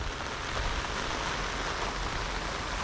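Steady rain falls outdoors during farm work, digging in the field, as a dense, even hiss with no pauses and no voices.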